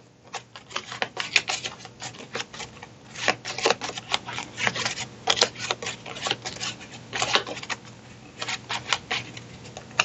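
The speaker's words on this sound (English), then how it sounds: "We're going to shuffle." Initiative cards from the DOOM board game are shuffled by hand, producing repeated quick papery riffles and snaps in irregular clusters, close and fairly clear, with no talking.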